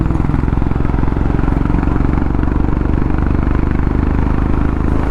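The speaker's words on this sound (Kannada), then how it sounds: "ಹಿಂದೆ 450 ಬರ್ತಿದೆ ಹೊಸ ಹಿಮಾಲಯ." A Royal Enfield Himalayan 450 motorcycle rides close behind on a road between Mysore and Adichunchanagiri, a loud, steady engine drone with rhythmic mechanical pulsing and clatter, heard continuously from the rider's own bike as well.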